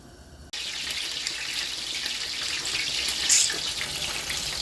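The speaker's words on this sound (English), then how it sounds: "I might add a little bit more water to this just to make sure all these guys are covered" Water pours steadily into a cooking pot of cow foot with butter beans, a continuous close splashing rush that starts abruptly and runs on without talk.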